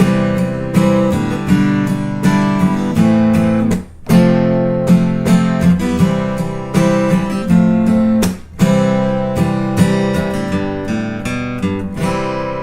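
A chord progression strummed with a syncopated feel, two chords pushed slightly ahead of the beat, with brief gaps between phrases; no voices.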